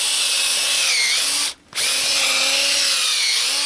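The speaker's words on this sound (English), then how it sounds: "drill two holes side by side." A power drill with a 9/16 bit runs loud and steady into frozen ground, briefly stopping midway and then revving straight back up, continuing with a high whine.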